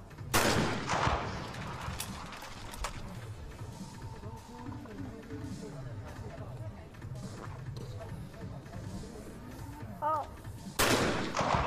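Shotgun blasts ring out at a women's trap shooting final at China's 2021 National Games, with a few sharp reports spaced far apart and a commentator talking between them.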